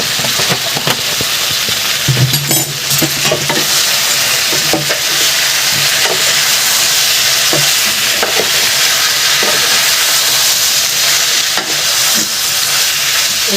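Cauliflower and potato curry with a little sugar being stir-fried in a pan for a Bengali vegetarian dish, giving a steady close sizzle and frying hiss with occasional scraping stirs throughout, no talking.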